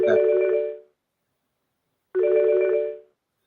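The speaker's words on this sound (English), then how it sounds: "We're only hearing your phone ringing." A telephone rings in two separate bursts about two seconds apart, each a clear electronic trill lasting under a second, close and alone with silence between.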